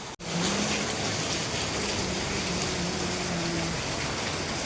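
Steady heavy rain drumming on a surface during a thunderstorm, a dense continuous wash of water noise that holds strong throughout after a brief dip at the start.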